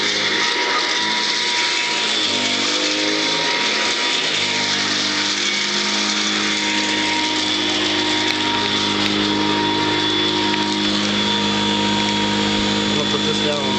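A Royal 608 vacuum cleaner with a dump-out bag runs steadily close by while it sucks up bird seed, giving a continuous whining motor drone. A voice talks over it.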